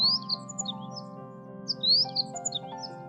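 A small bird with a broken wing, lying under a tree in a forest, gives soft high chirps and cries in quick clusters. The calls are repeated and fairly close, over a quiet background music bed.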